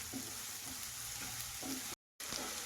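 Finely chopped small onions sautéing in a pan for egg gravy give a soft, even sizzle close by, with a few gentle stirring scrapes and a brief dropout near the end.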